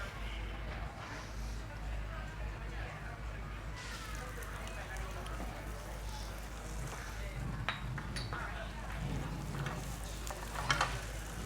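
Chopped ginger sizzling as it hits a hot pan already crackling with mustard seeds, a steady low frying hiss running throughout beneath a chef's talk at a food festival cooking demonstration.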